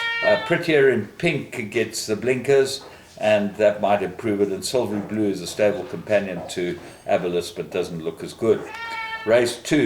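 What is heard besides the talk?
cat meowing, bothered by a dog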